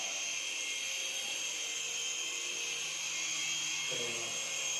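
An infrared remote-control toy airplane flies nearby, giving a steady, high-pitched motor whine that holds throughout, with a brief lower tone change near the end.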